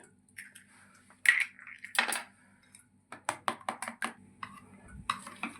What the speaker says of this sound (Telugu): ఎగ్గు మైదా బాగా బీట్ అయిపోయింది